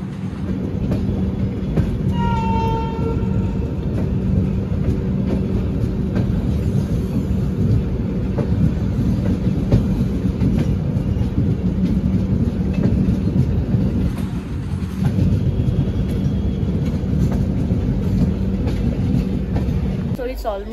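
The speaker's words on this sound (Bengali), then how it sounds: "আমাদের ট্রেন ছেড়ে দিয়েছে, দেখানোর চেষ্টা করছি।" A passenger train pulls away from a station, with a continuous heavy rumble and rattling of carriages heard from on board, a rising whine near the start and steady rolling noise throughout.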